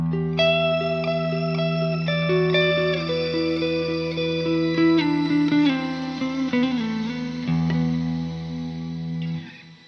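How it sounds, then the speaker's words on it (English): Electric guitar played through a shimmer-type reverb pedal, sustained chords blooming into bright, octave-up washes that layer and decay in a long, loud ambient tail with no talking. "So on the first pedal, I have a shimmer type of reverb."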